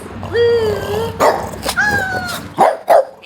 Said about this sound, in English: This little dog is going nuts.